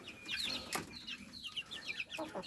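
Free-range chickens cluck and squawk in a quick, agitated scuffle, overlapping calls close by with a brief flurry of movement.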